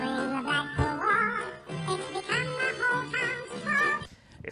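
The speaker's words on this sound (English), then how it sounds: "because this is pitch shifted up 12 semitones, it's an octave higher, it's going to sound quite robotic, it's going to sound quite chipmunky" Sampled Blackpool Walk music pitch-shifted up an octave, giving a thin, robotic, chipmunk-like tone; a continuous bright melodic layer plays alone at moderate level and ends abruptly.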